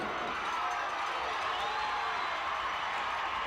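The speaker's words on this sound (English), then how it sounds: "Man, this crowd is fired up." Dense roar of a wrestling crowd cheering at a 1985 Mid-South Wrestling match, a steady, loud wash of voices filling the whole moment.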